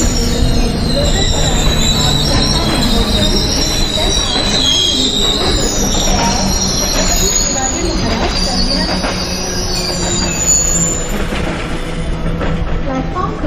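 A Mumbai local train at Masjid station in the MSTS Open Rails train simulator, with continuous loud screeching wheel squeal and rumbling carriages throughout, rhythmic rail clatter underneath and a faint station announcement voice.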